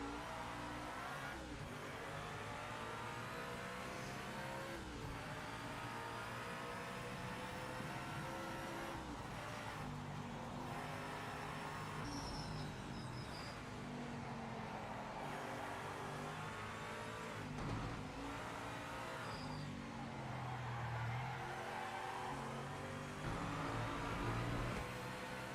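Race car engine sounds from a qualifying session at Sebring in Project Motor Racing, steady and continuous, with rising and falling revs through gear changes, faint and held throughout.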